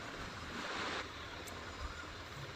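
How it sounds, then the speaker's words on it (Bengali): Lukewarm water is poured into a pan of well-browned chicken korma, giving a soft, steady rushing hiss that swells briefly and then settles into quiet, faint sloshing, with no talking. "এবার আমরা এর মধ্যে সামান্য ঈষৎ উষ্ণ গরম জল ঢেলে দেব।"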